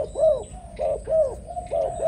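A Malaysian spotted dove decoy bird coos repeatedly, giving four soft, rounded phrases in a steady rhythm, close and clear over quiet background with no talking.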